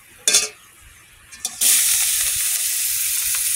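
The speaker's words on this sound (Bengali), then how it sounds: "আর চিংড়ি মাছগুলো দেবো" Prawns go into hot oil with a couple of brief splashy hisses, then a loud, steady, close sizzle that continues to the end.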